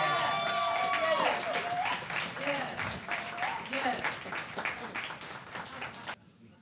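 Audience applause for a mayor at an evening event in New Jersey. Dense clapping fills the room and thins out over several seconds, mixed with crowd noise and a voice.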